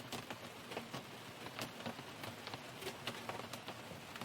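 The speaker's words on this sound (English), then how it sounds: "Finally, I wanted to add a rain sound." Rain sound effect within an electronic music piece: steady patter of raindrops with scattered sharper drips and taps over a soft background wash, moderately quiet.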